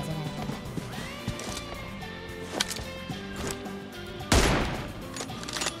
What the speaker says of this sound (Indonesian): Asal nembak aja biar keren